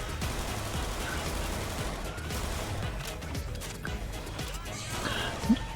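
Gunfire in the zombie shooter game Left 4 Dead, a dense wash of overlapping shots and game noise at moderate level, continuous and chaotic throughout.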